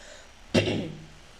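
One abrupt, close cough or throat clearing from a chess player during a live online blitz session, decaying quickly into quiet with no speech around it.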